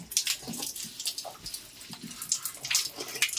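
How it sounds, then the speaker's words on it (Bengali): Tap water runs into a basin while a child washes their face at home, an irregular splashing and trickling stream with uneven bursts throughout, fairly close and alone. "ঠিক আছে, মুখটা ধুয়ে নাও ভালো করে, জলগুলি ছেড়ে দিয়েছি।"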